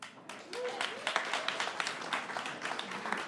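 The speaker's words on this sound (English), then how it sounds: "it's great for us all to clap here" An audience claps at the Jim McNulty campaign launch for Montgomery County Council, a steady patter of many hands applauding at close range, building quickly and continuing evenly throughout.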